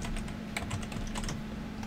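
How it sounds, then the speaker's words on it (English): Someone types on a computer keyboard in a rapid, irregular patter of light key clicks, close up, with no one talking. "by typing English in the search field"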